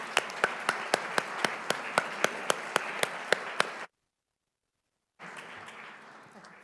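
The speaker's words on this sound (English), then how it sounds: "we'll give them a round of applause" Audience applause for the final panel at a civic forum, a steady wash of clapping with a dozen sharp, evenly spaced claps standing out, cutting to silence and then resuming more faintly.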